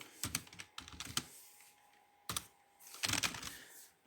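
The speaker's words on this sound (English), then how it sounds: "We'll type hello," Keys clack on a computer keyboard in short bursts of typing, close and fairly quiet, with pauses between the runs of keystrokes and no voices.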